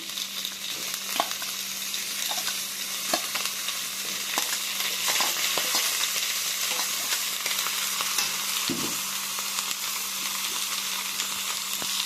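Broiler chicken meat sizzles steadily in a pan with tomato, a dense crackling fry with a few stirring clicks and scrapes, close and continuous, with no talk.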